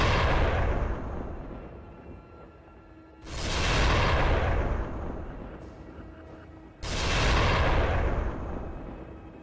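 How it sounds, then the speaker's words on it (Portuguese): Three heavy, booming gunshots fired by soldiers several seconds apart, each striking hard and then rolling off into a long decaying rumble. "Os soldados então se aproximaram da besta e desferiram vários tiros."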